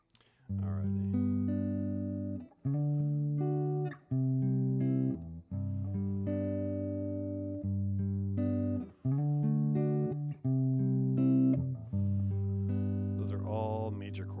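A series of major chords played one after another on a keyboard instrument, each sustained a second or so with brief gaps, clear and close with no talking over them.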